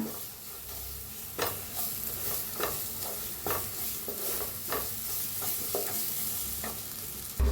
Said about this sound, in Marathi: आता ही आपण पेस्ट बनवून घेतली होती मटरची, त्याला बी चांगलं भाजायचं दोन्ही मिळून